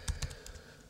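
Typing on a computer keyboard while entering a web address into a new browser window, a few distinct keystroke clicks spaced irregularly across a quiet second, with no talking.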